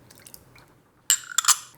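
Beaten egg, Marsala wine, water and vinegar poured into a well of dry cannoli dough ingredients: a quiet start, then a close, wet splashing burst of liquid lasting under a second.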